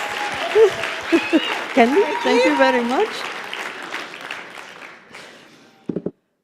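An audience at an education conference's open-mic session applauds, dense clapping mixed with cheering voices, then thinning out, with a speaker briefly talking over it.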